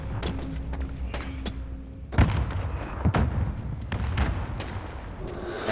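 Stun grenades and grenades go off in a 2v2 video game match, several sharp bursts and thuds scattered over a steady rumbling background, loud and close.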